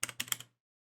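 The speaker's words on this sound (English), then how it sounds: "I'm going to type" Quick burst of about five keystrokes on a computer keyboard, typing a command into the Unreal Engine console; crisp, close clicks over half a second, then silence.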